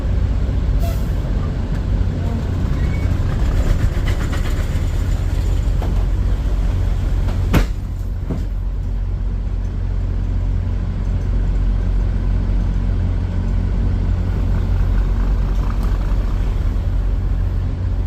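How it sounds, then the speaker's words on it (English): Semi-truck with a 43.5 refrigerated trailer, its tandems slid forward with air brakes hissing around mid-clip over a steady, loud diesel idle and rumble, then the rig moving on. "Now we're going to slide our tandems up a lot, and then we're going to hit the road."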